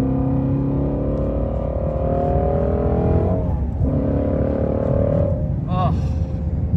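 A Shelby GT350R driving hard on a racetrack, its engine loud and close throughout with steady drone and rising, falling pitch as it accelerates and eases through a turn.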